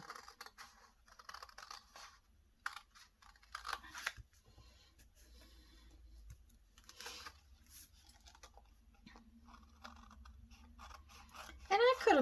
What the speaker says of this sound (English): Now we're going to have to cut these out.